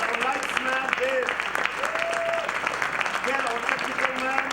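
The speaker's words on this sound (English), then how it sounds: "applause for our musician in the house" An audience at a live show applauds steadily and loudly throughout, with scattered whoops and cheering voices rising over the dense clapping.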